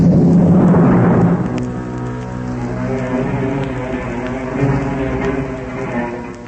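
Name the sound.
thunderstorm with rain, radio drama sound effect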